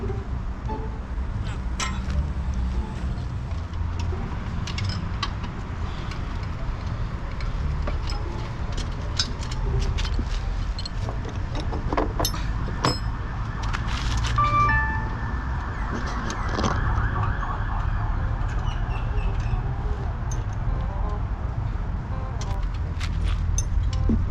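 A motorcycle with a stock engine, modified cam and large slip-on exhaust idles in a steady, deep rumble, close up, with occasional light metallic clinks and taps over it.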